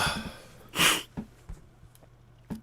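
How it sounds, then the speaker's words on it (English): One short, sharp sneeze bursts out from a man close by in a quiet room, followed by soft breathing and small snorts. "I got to sneeze."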